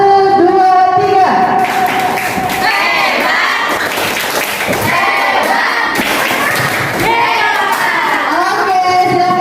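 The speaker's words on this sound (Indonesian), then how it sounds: "Terakhir, tepuk hebat. 1, 2, 3." A school class claps together on the teacher's cue: loud, close rhythmic group clapping with thumps and children's shouting throughout, after a brief voice at the start.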